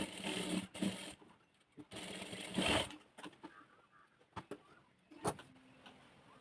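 Short bursts of sewing machine stitching run a double seam along a blouse neck, close and fairly quiet, with pauses, a few clicks and handling noises between runs.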